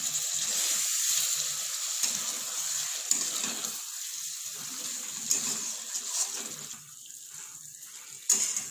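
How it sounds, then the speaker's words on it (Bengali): Potato curry (aloo dum) simmers in a pot and gets stirred, producing a steady bubbling hiss with scattered soft scrapes and knocks of the spoon, fading slightly toward the end. "ভালো করে একবার আলুর দমটা নেড়ে দেবো।"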